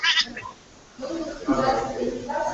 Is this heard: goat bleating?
yes